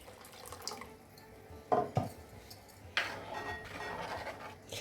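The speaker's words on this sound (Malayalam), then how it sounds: "അപ്പം നമുക്ക് കുറച്ച് വെള്ളം കൂടെ ഒഴിച്ചു കൊടുക്കാം." Water is poured into a thickened Kerala fish curry in a pot: a couple of short splashing gushes rise over faint background running water, with no speech.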